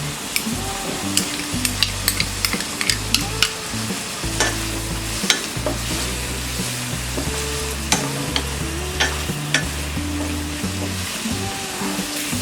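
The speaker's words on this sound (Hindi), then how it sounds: "हमने 2 मिनट तक गाजर और ये बीन्स और अनियन फ्राई कर लिया है।" Carrots, beans and onion sizzle in a pan while being stirred, giving a steady frying hiss with frequent scraping and clacking strokes of the utensil. No one talks over it.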